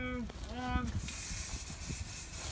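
A tear gas grenade hisses steadily once it is set off, a continuous close rush of escaping gas following brief vocal sounds, with excited voices shouting over it.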